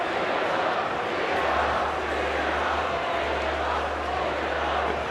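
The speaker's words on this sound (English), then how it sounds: "The crowd urging them to tee up Tony Bennett." A basketball arena crowd in a Duke versus Virginia game shouts and roars at the officials, urging a technical foul, a dense sustained din with a low hum beneath.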